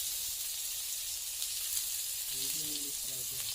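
Chopped onion and garlic sizzle in oil in a wok, a steady bright frying hiss throughout, with a voice briefly audible in the background partway through.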